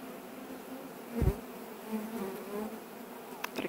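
Honeybees buzz steadily around a wooden hive box during a colony rescue from a tree stump, a close, continuous drone with a few louder bumps and passes near the microphone.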